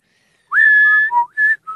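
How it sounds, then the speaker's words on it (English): Person whistling by sucking air in, a short close melodic phrase of a few clear pitched notes with brief gaps, alone with no talk. "I whistle sucking air in."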